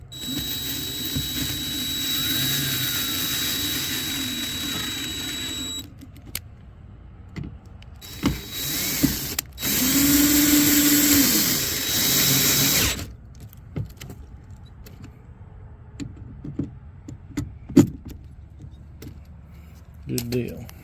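A powered driver tightens screws on the rear passenger door lock actuator of a 2009 Cadillac CTS-V. Two sustained whirring bursts sound up close, separated by quieter clicks and handling taps.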